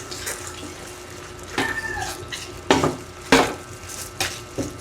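Pork picadillo being stirred in a pan, a few scraping, splashy strokes spaced out over the span with light sizzling underneath, fairly close and moderate in volume, no talking.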